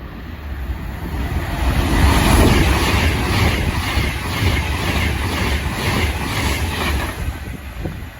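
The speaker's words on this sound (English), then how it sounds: "the next train to pass by will be another Avanti West Coast Pendolino." An Avanti West Coast Pendolino electric train passes close by at a station, a loud rushing roar with rhythmic clickety-clack of wheels over rail joints, swelling and then holding steady.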